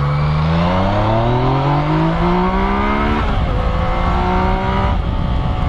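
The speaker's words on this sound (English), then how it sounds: "That's the traction control trying to keep the front end down." A Yamaha MT-09 Tracer motorcycle engine revs loudly and steadily upward in pitch, then briefly stutters and dips as traction control cuts in before climbing again, heard close and alone.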